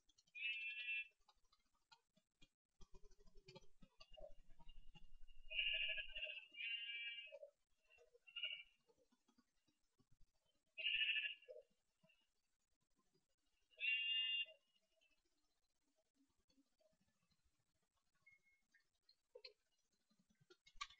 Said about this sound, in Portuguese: Ali tem mais ovelhas que eu vi.